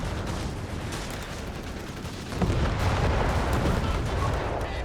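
Gunfire and cannon shots from a Company of Heroes 3 multiplayer match, including a Greyhound armored car firing: dense, continuous battle noise with overlapping rumbling blasts that grow louder and fuller about halfway through.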